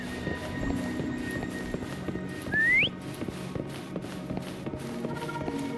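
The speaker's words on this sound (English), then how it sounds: "Try whistling." A single short rising whistle calling a horse cuts through over soft hoofbeats and footsteps in the video game Wuthering Waves.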